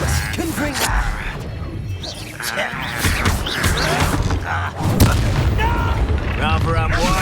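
Confringo fire-blast spell in the Hogwarts Legacy video game bursting with loud booms amid busy combat effects, while voices shout during the fight.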